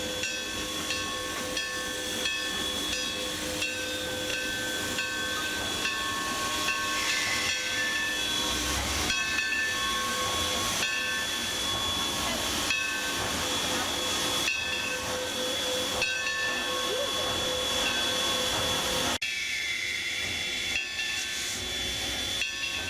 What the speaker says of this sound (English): Here's our train backing up the carriages.